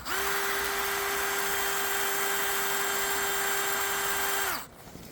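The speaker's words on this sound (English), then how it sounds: "we're going to drill the hole right here" A power drill whines at a steady high pitch for several seconds while drilling a hole in an umbrella, close and loud, then stops abruptly.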